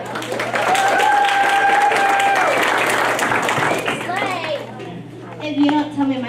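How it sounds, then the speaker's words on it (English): Audience applause at a school 5th-grade poetry slam, a steady crowd of clapping and children's voices lasting several seconds, with cheering whistles and chatter rising near the end. "Applause for Albany."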